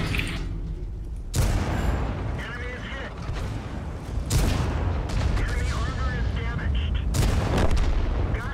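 Gunfire and heavy booming blasts in a war video game, several loud broadband bursts separated by sustained rumbling battle noise, with people talking over it.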